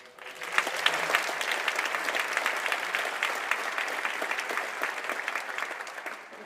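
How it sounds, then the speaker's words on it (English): A sustained round of applause from an audience in a performing arts hall at the University of Akron, during a mayoral swearing-in ceremony: dense, even clapping that holds steady for several seconds at moderate distance. "give one more round of applause for that wonderful music we had"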